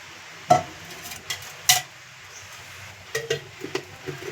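Ghee in a pan stirred with a metal ladle, giving a few sharp scraping clinks and taps against the pan over a faint, steady background.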